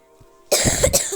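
One loud, close cough bursting out suddenly after near silence, harsh and raspy.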